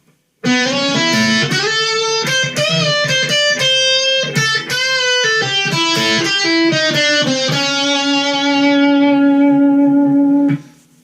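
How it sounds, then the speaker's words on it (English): An electric guitar with heavy distortion plays a bluesy line of bent and sliding notes, ending on a long sustained chord that cuts off. "Let me turn back up the distortion here."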